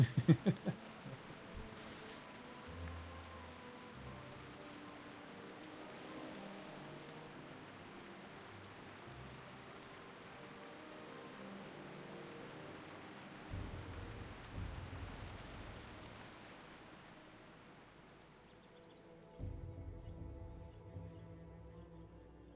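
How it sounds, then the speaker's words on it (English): Rain and thunder in the video game Turtle WoW: steady hissing rainfall throughout, with deep rolling thunder rumbles near the start, around the middle and again toward the end before fading out. "Oh, it's raining in the game, not outside."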